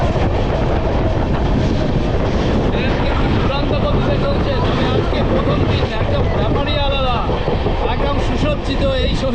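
Shahid Express LHB passenger train running on rails through Liluya, heard from inside with a steady loud rumble and rattle of the coaches, wind buffeting and rhythmic wheel clatter throughout.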